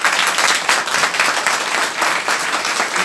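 A crowd at a birthday celebration applauds continuously, a dense even wash of clapping with no pauses.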